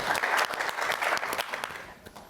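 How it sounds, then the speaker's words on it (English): Audience applause at a business forum, a dense steady clapping from a room of listeners that tapers slightly toward the end. "Applause, please."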